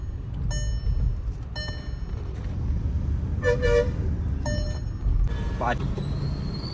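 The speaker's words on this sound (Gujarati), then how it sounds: "ગાડી નહીં, બસ છે. બસ મારે છે હોર્ન" A bus on a road near Anand, Gujarat, sounds its horn in several separate blasts, loud and close, over the steady rumble of a moving vehicle while people talk inside.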